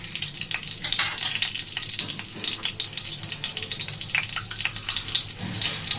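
Bay leaf and nigella seeds frying in hot oil give a steady, close crackling sizzle with scattered sharp pops throughout, no voices.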